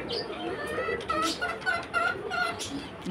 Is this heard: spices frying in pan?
no